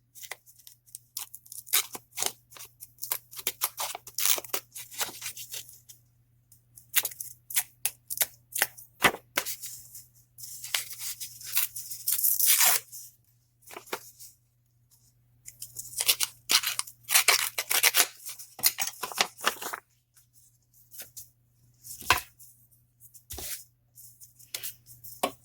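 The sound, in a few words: roughening paper edges with a cuticle tool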